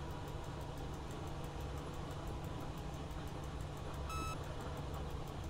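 ASFA train safety beep sounding in the cab of a historic Renfe 434 locomotive, one short electronic tone rising briefly above the steady low rumble and drone of the moving train.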